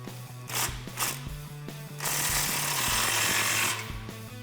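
Ratchet wrench with a 15 socket tightening the exhaust clamp on a 2018-2019 Mustang GT Roush cat-back exhaust, quick close clicking bursts with brief pauses, then a longer continuous ratcheting run.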